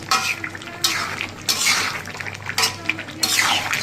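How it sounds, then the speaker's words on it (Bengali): Chicken curry, made with a laying hen, being stirred and sautéed in a pan, with a spoon scraping against the metal in repeated close sweeps over a faint sizzle, and no voices. "এভাবে বেশ কিছুক্ষণ কষিয়ে নেব"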